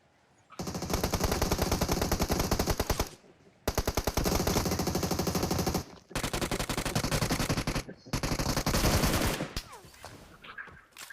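Gunfire in a squad shooter video game with an AWM sniper in play, long loud bursts of rapid shots broken by short gaps, close and dominant over faint background.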